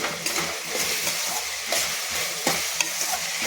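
Food sizzles steadily in a pan while being stirred, with spatula scrapes recurring every second or so, close and continuous with no voices.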